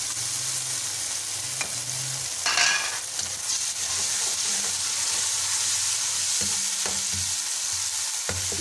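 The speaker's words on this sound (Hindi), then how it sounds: "अब हम इसमें डालेंगे टमाटर ऐड करेंगे" Tomatoes tipped into garlic and ginger frying in a pan for a liver (kaleji) dish, giving a brief louder sizzling burst followed by steady frying hiss and scraping stirring, close and alone.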